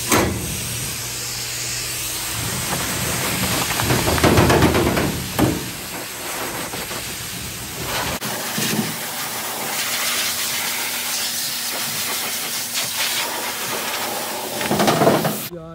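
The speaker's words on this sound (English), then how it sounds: "So now we turn on the dryer." A pet dryer blows air over a freshly washed dog, making a loud, steady rushing hiss that runs throughout and shifts in tone partway through, with no talking.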